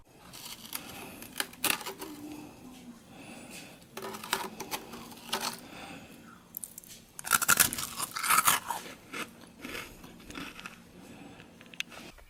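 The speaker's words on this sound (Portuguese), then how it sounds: "escuta aí por um minuto a crocância desse biscoito" Homemade crispy champagne biscuits (ladyfingers) being bitten and chewed up close, giving repeated dry crunches in bursts with pauses between, no talking.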